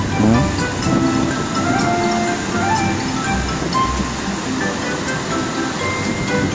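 Water rushes continuously down Curtain Falls in Campawan, Davao Oriental, a loud, steady roar close by with faint voices mixed in.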